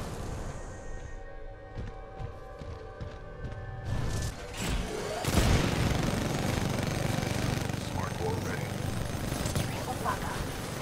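A Titan's laser core fires in Titanfall 2 during the final boss fight against Slone, a dense roaring blast that swells loud midway over steady combat noise and machinery rumble, with a voice talking through it.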